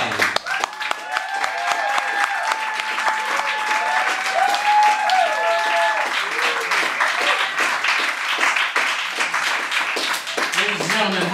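Applause for singer Steve Lyons at a New York showcase: a dense, sustained burst of crowd clapping with voices and cheers mixed in early on, tapering slightly toward the end.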